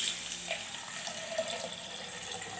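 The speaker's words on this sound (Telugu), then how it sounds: "కొంచెం నీళ్ళు పోయాలన్నమాట" Water poured into a copper vessel, a steady close splashing and trickling stream that runs continuously throughout, with no talking over it.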